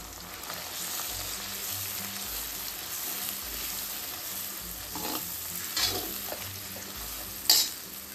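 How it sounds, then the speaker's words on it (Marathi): A paste of coconut, chili, ginger and garlic sizzles steadily in a pan for katla fish curry, with soft stirring scrapes throughout and one sharper clatter of utensil on pan near the end. "खोबरा, मिरची, आलं, लसूण, हे वाटण आधी टाकणार आहे मी आणि हे 2 ते 3 मिनिट परतून घेणार आहे"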